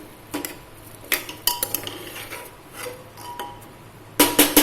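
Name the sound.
stirring rice in a pot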